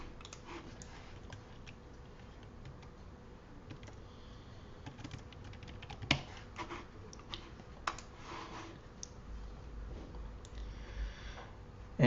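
Someone types a name on a computer keyboard: a quiet, irregular patter of nearby key clicks with a few louder taps, heard over a faint room hum.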